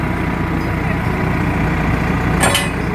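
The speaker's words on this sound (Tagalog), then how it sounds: "Kaya itong traktora namin ang gagamitin namin." Massey Ferguson tractor engine running on a farm, a loud steady low rumbling idle heard up close for the whole moment, with a brief clatter near the end.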